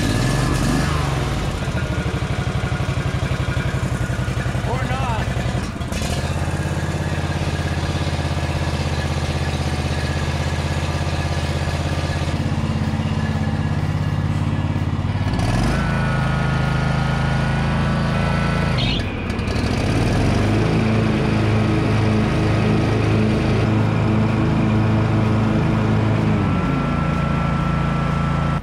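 A John Deere Z445 zero-turn mower engine runs steadily with a continuous droning hum, loud and close, and its pitch and load shift a few times as the blades engage, with no talking.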